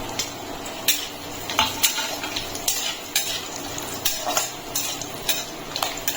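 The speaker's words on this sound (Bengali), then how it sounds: "এগুলো একটু ভাজা হয়ে গেলে আমি দিয়ে দিচ্ছি কিশমিশ।" Raisins added to cashews and almonds frying in ghee in a wok, stirred with a spoon that scrapes and taps the metal pan in steady, irregular strokes over a faint sizzle.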